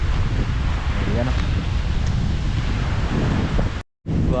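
Strong wind buffets the microphone at a seashore with big waves, a loud continuous roar with surf rumbling beneath. It cuts out briefly near the end.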